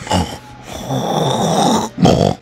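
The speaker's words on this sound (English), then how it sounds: "Why are you snoring like that?" Loud, close snoring in Berry Avenue roleplay: a rough rattling snore, a short pause, a long sustained snore, then another gritty snore after a brief gap.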